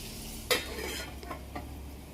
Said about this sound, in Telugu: అందుకని జస్ట్ అలా లైట్గా కలిపేసుకొని ఆయిల్ అన్నీ ముక్కలకి పట్టేలా కలిపేసుకున్న తర్వాత మూత పెట్టేసుకుందాం